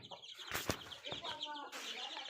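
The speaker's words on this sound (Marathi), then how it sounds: "ही सर्व कोंबडी आहेत माझ्याकडे" Chickens from a small home flock of about eleven birds cluck nearby in short, irregular bursts, with a brief flutter of wings partway through.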